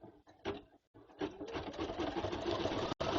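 A sewing machine stitches in short stop-start bursts at close range, its whirring needle motor pausing briefly between runs before settling into a steadier stretch of stitching.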